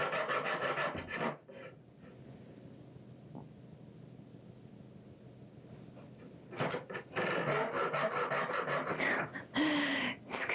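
A hand saw cuts through a homemade Disney princess tiara in rapid rasping back-and-forth strokes, coming in two bursts with a quieter pause between, close and scratchy.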